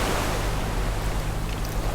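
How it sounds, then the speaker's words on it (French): Ocean surf washing onto a shore, a steady broad rush of water with constant wash and no distinct breaks, moderately loud and uninterrupted by voices. "Le son des vagues si apaisant."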